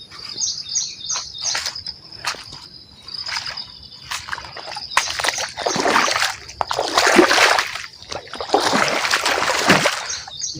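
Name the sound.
flowing flood water from pond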